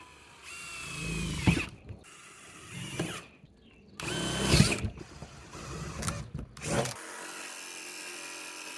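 Bursts of power-tool drilling and buzzy jigsaw cutting, several short runs separated by pauses, close and fairly loud, with rattling and clunks between, as four corner holes are drilled and cut between for a MaxxAir fan opening.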